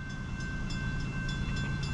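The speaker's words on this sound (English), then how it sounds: "First manifest CSX of the morning." A CSX manifest freight train, the M406, rumbles steadily past on the line through Middlesex, New Jersey, on a Sunday morning, a loud continuous rolling roar with no pauses.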